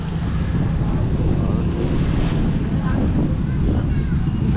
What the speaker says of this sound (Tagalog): Ang bilis ng hangin, no?